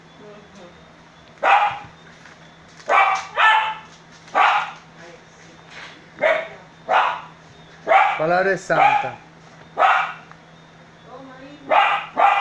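Dogs bark repeatedly in short bursts and double yaps spread across the stretch, fairly close and loud over a low steady hum, with someone speaking between barks.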